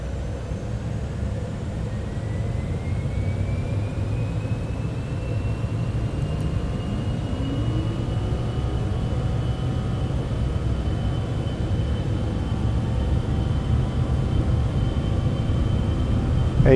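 A Cessna in MSFS 2024 on its takeoff roll on runway 27 at Djibouti Ambouli: a steady, continuous engine drone with broadband rumble and a faintly rising tone throughout, with no talk.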